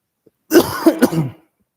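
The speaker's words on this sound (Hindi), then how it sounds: "पता नहीं क्यों दोबारा फिर खांसी हो गई, सॉरी" A single short cough or throat clearing, close and fairly loud, lasting about a second with no talking around it.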